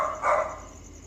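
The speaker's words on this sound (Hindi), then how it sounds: "और डॉलर ना भौंक रहा है।" A single dog bark rings out sharp and fairly close, one short burst rising over a quiet indoor background and quickly fading.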